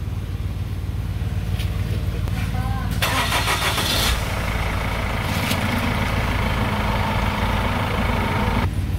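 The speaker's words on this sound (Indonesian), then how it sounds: "Nah sekarang kita starter, lanjut dengan tabung yang kedua." A Chevrolet Captiva engine, parked during a power steering fluid flush at home, cranks briefly and catches, then settles into a steady idle close by, while a person talks over the running engine.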